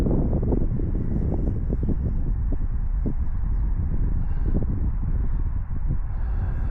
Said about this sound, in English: Got big gust of wind there.